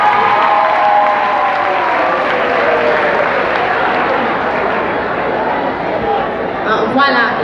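Audience at the grand final of a school eloquence tournament applauding and cheering, a loud continuous wash of clapping and crowd noise with voices mixed in.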